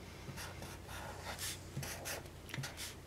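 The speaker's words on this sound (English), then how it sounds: "I'm gonna take a marker and write" A marker is written across a ribbon in a quiet room, soft scratchy strokes coming in short bursts with brief gaps between them.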